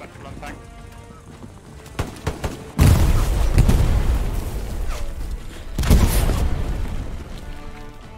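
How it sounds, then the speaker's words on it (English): In a WW2 video game, an anti-tank mine blows up under a tank with a deep, loud boom, followed by a second heavy blast and rumbling debris, after some earlier scattered shots. "So I put my remaining AT mines in front of it and let it explode."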